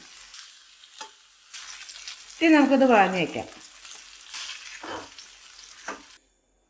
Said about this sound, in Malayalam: ചെറുതീലിട്ടിട്ട് തിരിച്ചു മറിച്ചിട്ട് ഒന്ന് വേവിച്ചെടുക്കാം.